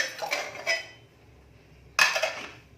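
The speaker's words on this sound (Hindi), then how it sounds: "कुकर का प्रेशर कम हो गया है, कुकर को खोलते हैं।" Two metallic clanks of a pressure cooker lid and pot as the cooker is opened after chicken soup stock is cooked, one cluster early then a sharp clatter after a quiet pause, close by with no talking.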